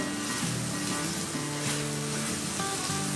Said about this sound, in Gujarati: તો હું એને થોડુંક એવું મેશ કરી દઈશ